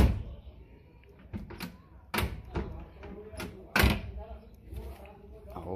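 Door of a blue Chevrolet Opala Comodoro coupe swung shut, giving a few solid thuds and slams, the loudest near the middle and another later, with talk and handling noises around them.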